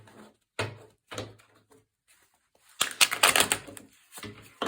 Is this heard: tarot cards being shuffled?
yes